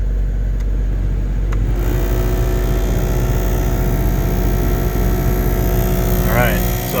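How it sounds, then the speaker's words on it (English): A Jeep heater blower motor with a noisy squirrel cage fan runs as a loud, steady whirring drone that holds at an even level from start to finish. "So what it is the squirrel cage on the blower motor."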